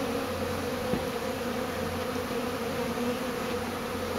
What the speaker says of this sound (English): I get a swarm call for this amazing swarm of bees to come get